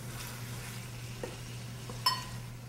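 Onions cook quietly in olive oil in a pan with a faint, steady sizzle, a soft knock midway and a brief sharp clink near the end.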